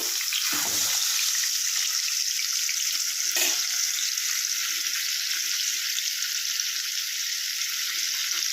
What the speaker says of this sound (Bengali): এবার একটু পনিরটা হালকা করে উল্টে দেবো